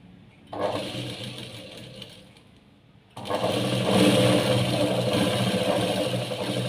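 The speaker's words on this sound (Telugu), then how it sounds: "ఈ రెండింటిని కలిపి కుట్టుకురావాలి" A sewing machine stitching a lining piece to a blouse piece, running in a short burst, pausing briefly, then whirring steadily and loudly up close.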